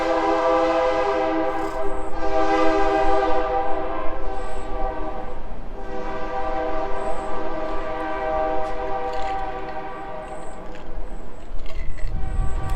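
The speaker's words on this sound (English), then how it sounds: "Train again." A loud, sustained train horn blares over the steady rumble of a passing train at Lake of the Ozarks, with a few faint higher whistle-like tones.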